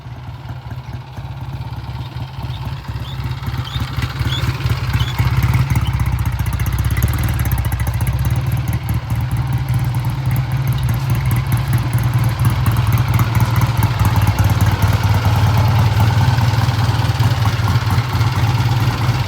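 A vintage British motorcycle running under power, a loud steady engine drone with a fast rhythmic beat and mechanical clatter, building slightly and holding close throughout.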